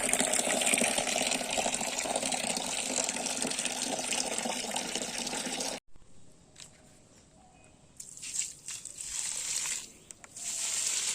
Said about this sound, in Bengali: সব গাছেই জল দিয়ে দিয়েছি আমি